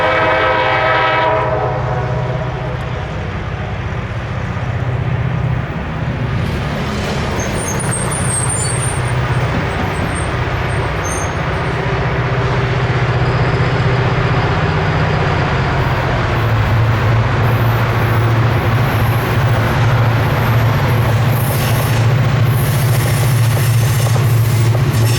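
A grey Alstom SD40-3 diesel locomotive on the Aberdeen Carolina and Western railroad rolling by on a downgrade, a loud sustained rumble with a horn blast at the start and heavy rail noise throughout.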